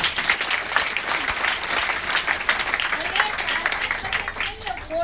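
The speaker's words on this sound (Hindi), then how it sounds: "ताली होना चाहिए।" Audience applause at a DXN motivational seminar in India, steady dense clapping through the whole stretch, fairly loud, with a speaker's amplified voice partly audible over it.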